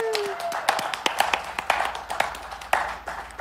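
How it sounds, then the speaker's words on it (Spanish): A small audience claps at a rock concert at Sala Estelar, a thin scattering of sharp, irregular handclaps that are fairly close and moderately loud, with no crowd roar behind them. "se merecen un aplauso"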